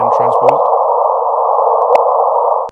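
A transposed-up gravitational wave signal from two orbiting black holes plays through a loudspeaker as a steady, loud, sustained tone lasting a few seconds, with brief clicks and faint murmurs near the start.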